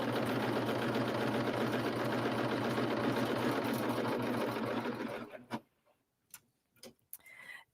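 Serger sewing machine stitching a rolled hem runs loud and steady with a rapid mechanical whir, then stops abruptly, leaving a few faint clicks and handling noises.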